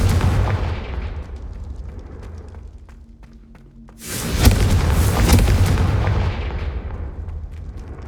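A Confringo spell explosion in the video game Hogwarts Legacy, a sudden loud blast with rumbling booms that tails off slowly after a rising rush of sound.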